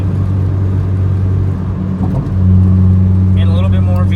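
Stock Honda Civic Si EM1 with its 1.6-litre B16 engine holding a loud, steady high-rpm drone at top speed, the pitch shifting up partway through as it pulls harder, with wind and road roar underneath.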